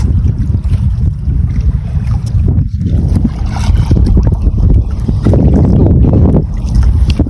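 Strong amihan monsoon wind buffets a fishing boat at sea, a loud, steady roar of rushing air and water noise that continues without a break.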